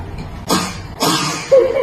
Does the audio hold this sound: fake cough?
yes